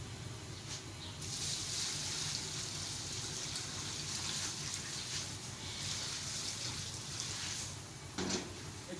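Water pours steadily from a container onto a large batch of about 35 kilograms of chicken being prepared for steam roast with salt and vinegar, a continuous close rushing splash with a brief clatter near the end.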